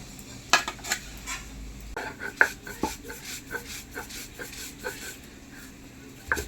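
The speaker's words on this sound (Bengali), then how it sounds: "কত সহজে আমি নারকেল কড়া দিয়ে শিলনোড়াতে বেটে দুধ বার করে দেব।" Coconut is ground by hand with a stone roller on a stone grinding slab. Rhythmic scraping strokes and sharp clacks of stone on stone repeat at close range, fairly quiet, with a faint murmur underneath.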